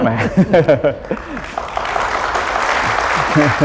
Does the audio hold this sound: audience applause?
yes